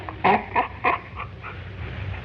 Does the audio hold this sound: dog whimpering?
yes